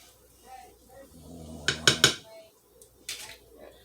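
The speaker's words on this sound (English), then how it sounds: "I just wanted to kind of mix that a little bit just to" Lemon cake batter mixed in a bowl, with a few sharp clinks of a utensil against the bowl amid soft scraping, and a person talking quietly.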